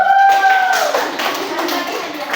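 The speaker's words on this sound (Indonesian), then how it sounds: "kita beri tepuk tangan dulu" A classroom group claps for a correct quiz answer, a short loose patter of hands following a fading tone, moderately close with light chatter underneath.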